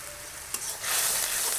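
Ginger paste and packaged haleem spice mix, for mutton haleem, sauté in a pan: a brief muffled clunk, then a hissing sizzle that swells and holds loud and close.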